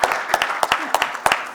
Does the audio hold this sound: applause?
yes